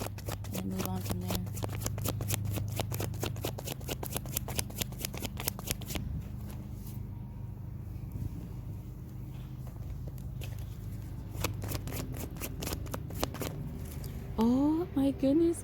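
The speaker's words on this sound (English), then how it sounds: "I'm gonna go ahead and pull 2 more cards" Tarot cards being shuffled by hand during a reading, a rapid close-up run of crisp papery riffles and flicks that slows toward the end, followed by a few sharper clicks.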